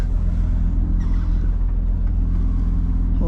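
A Scania V8 truck on a snowy, icy road holds a deep, steady diesel rumble with strong low harmonics, close and continuous throughout as it reverses slowly.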